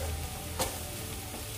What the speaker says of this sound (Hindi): थोड़ा सा इसको मिक्स कर लेंगे।